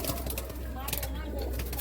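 A breeding pair of Chinese Teddy pigeons coo softly nearby, faint and partly masked by background noise.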